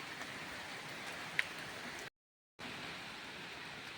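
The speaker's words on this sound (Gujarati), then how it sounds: "વરસાદ નો થઈ ગયો ચાલુ" Faint, steady rain hissing evenly throughout, broken by a short half-second dropout to silence before resuming at the same quiet level, with no voices.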